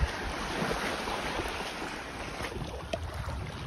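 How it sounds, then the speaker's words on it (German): Wind and soft lapping waves at a sandy beach on Lake Issyk-Kul in Kyrgyzstan make a steady, broad outdoor rush with occasional faint bumps and no voices. "Wir sind am Meer, hier am Isikulsee, dem Meer Kirgisistans."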